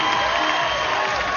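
Crowd noise at a beach volleyball semifinal, a dense, steady roar of cheering and applause with no pauses.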